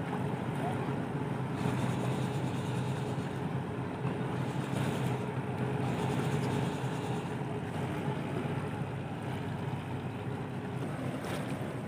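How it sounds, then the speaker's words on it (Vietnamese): A small boat motors along the Chợ Lách canal past cargo barges, its steady engine drone mixed with wind buffeting the microphone and water rushing by, continuous and fairly loud. "cái anh ghe này anh qua mặt luôn mấy anh xà lan phía trước luôn"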